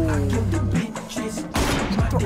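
M24 sniper rifle shots in PUBG ring out as sharp reports, one loud crack standing out over tonal background sound and voice.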